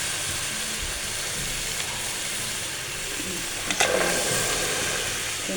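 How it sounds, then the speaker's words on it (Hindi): Chickpeas frying in a hot pan give a steady, loud, continuous sizzle and hiss, with a brief clatter of stirring near the end. "हम इसमें डाल देंगे चना।"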